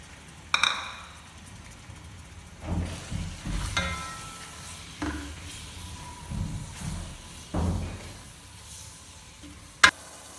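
Minced beef and chopped onion frying in a pan, with soft sizzling that swells in bursts as the mix is stirred, plus a few sharp metallic clinks of a utensil against the pan.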